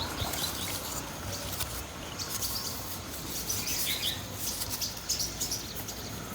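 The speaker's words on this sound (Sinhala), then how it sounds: "ඒ නිසා වෙන මාස වලට වඩා නම් මේ මාසෙදි කුරුල්ලන්ගේ සද්දෙත් වැඩි" Faint, scattered chirps from birds in April drift over a steady background hiss, with a few short calls standing out toward the later part.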